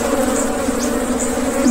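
Honey bees buzz steadily around beehives, a close, continuous droning hum with individual insects weaving past.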